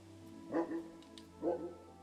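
A dog in Kingdom Come: Deliverance 2 gives two short, soft barks about a second apart, fairly close and moderate in level over a low steady background hum, no talking.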